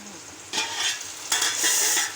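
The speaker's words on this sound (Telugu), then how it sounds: "టమోటాలు బాగా మగ్గాయి కదా అందుకు ఇలా మనం ఒకసారి కలుపుకుందాం" A spoon stirs tomato masala frying in a pan, a steady close sizzle broken by two scraping sweeps through the thick mixture.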